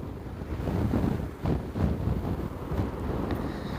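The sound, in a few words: volcano eruption roaring at night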